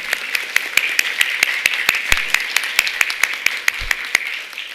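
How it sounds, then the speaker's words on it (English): Sharp, evenly spaced claps ring out from a spelling bee audience at a county elementary event, a steady run of distinct hand claps over a light bed of applause. "Let's give yourselves a big round of applause first for making it here."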